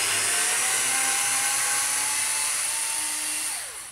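A Ryobi TEK4 cordless screwdriver drives a screw into a pre-drilled hole in wood, giving one steady, high motor whine up close that holds for about four seconds before it winds down.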